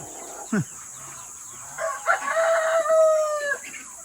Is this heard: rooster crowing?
yes